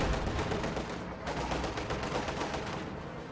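Rapid, dense gunfire in a real-time strategy game pounds a structure, a continuous rattling barrage of overlapping shots and impacts that stays loud and steady throughout.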